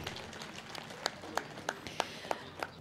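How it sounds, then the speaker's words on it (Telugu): Scattered claps from an audience at a village felicitation gathering, about eight sharp, evenly spaced hand claps standing out over a low murmuring room background. "ఒక్కసారి బ్రహ్మర్షి పత్రిజీకి క్లాప్ కొట్టుకుందామండి"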